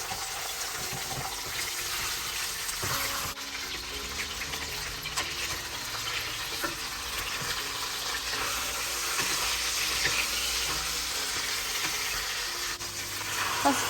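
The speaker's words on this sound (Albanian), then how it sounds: "Do ta skuqim mirë pulën nga të gjitha anët." Pieces of a whole cut-up chicken fry in olive oil with a steady, close, even sizzle and faint clinks and scrapes, no voices.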